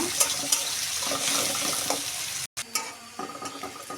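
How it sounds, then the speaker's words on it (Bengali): Onion and chopped garlic fry in hot oil in a pan, a loud continuous sizzle with stirring scrapes and a brief gap before the crackling resumes, unevenly pulsing. "রসুন কুচি দিয়ে দিলাম পেঁয়াজটা সুন্দর করে ভেজে নেব"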